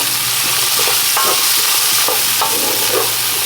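Chicken and pig feet frying in a pan with scallion, a loud steady sizzle with a few scraping stirs and shakes, close and continuous, no talking.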